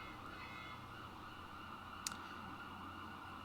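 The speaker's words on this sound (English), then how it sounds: "there's a siren outside, which I mentioned on Wednesday is going to be a pretty frequent occurrence" A siren in the street outside is faintly audible from indoors as a distant, steady wail. It sits under a low background hum and is broken once by a single sharp click.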